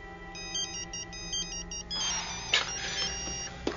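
A mobile phone rings with a repeating electronic ringtone, a series of short beeping bursts over a low steady hum, followed by brief clattering handling noises.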